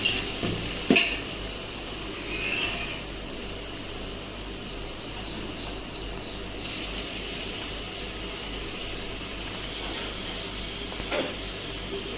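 Garlic fries in a cooking pan with a constant, even sizzle, and a sharp clink of a utensil stirring it near the start, with no talk.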